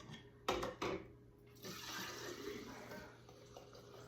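Liquid is poured into a glass canning jar during home canning, a pair of brief splashy bursts followed by a steady soft trickle and gurgle at close range, fading toward the end.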